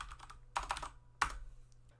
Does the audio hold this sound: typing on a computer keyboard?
yes